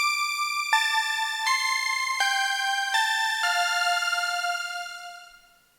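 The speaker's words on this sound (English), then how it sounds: "it's this Disco Sparkles patch, and the pattern sounds like this" The Disco Sparkles patch from a retro Serum pack plays a bright, glassy synth lead, a stepping pattern of sustained notes that descends and fades out at the end, heard alone and clear without voices.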